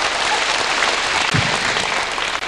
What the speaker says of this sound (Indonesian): I say brother, tepuklah sikit.